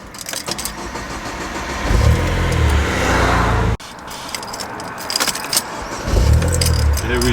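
A Vauxhall Corsa VXR Nurburgring engine cranks and catches twice, each start swelling into a loud low rumble, with keys jangling and handling clatter between the starts.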